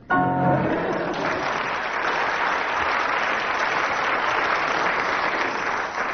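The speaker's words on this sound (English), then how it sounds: "And judging from audience applause, Denise gets 9 out of 10." Studio audience applause on a radio comedy panel show, a loud sustained burst of clapping that begins abruptly and holds steady, with a brief sung or spoken tone at the very start.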